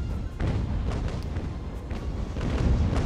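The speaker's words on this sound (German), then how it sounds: "da knallen die Schiffe aneinander" Heavy booming crashes and thuds layered over a continuous roar as sailing warships collide in the video game Ultimate Admiral: Age of Sail, large wooden hulls crashing amid battle noise.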